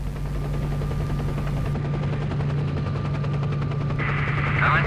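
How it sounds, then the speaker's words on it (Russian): A military helicopter in the video game S.T.A.L.K.E.R. Shadow of Chernobyl gives a loud, steady rhythmic rotor chop over a low droning hum, with no voices. "Вертолет военных,"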